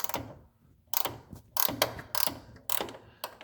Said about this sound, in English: These are called the ratchet wrenches